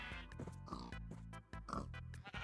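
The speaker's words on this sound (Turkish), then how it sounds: "Abi niye domuzlarla koyunlar aynı yerde?" Pigs grunt and oink in Minecraft survival, a series of short nasal oinks repeating close together at a moderate level, without talk over them.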